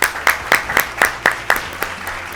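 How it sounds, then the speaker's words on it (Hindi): A studio audience on a children's TV special claps in a steady rhythm, with about eight distinct, fairly loud claps in a row over a low background hum. "जिनको हम आपकी ज़ोरदार तालियों में वेलकम करते हैं।"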